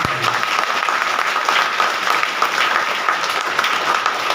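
Sustained audience applause at a chaturmas satsang gathering at an ashram, a steady dense wash of many hands clapping throughout, fairly loud and even.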